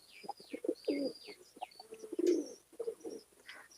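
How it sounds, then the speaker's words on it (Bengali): Andhra pigeons coo repeatedly nearby, soft low throaty calls in a loose rhythm, with a few thin chirps and faint background noise. "এই দেখুন পায়রা"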